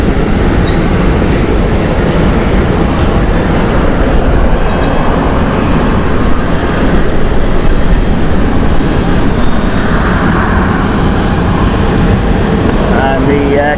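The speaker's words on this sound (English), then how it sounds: "And the KLM 737 is now ready to go into the stand." A KLM Boeing 737 jet taxis to its stand at Schiphol Airport, a loud continuous engine rumble and whine that persists throughout, with faint voices in the background.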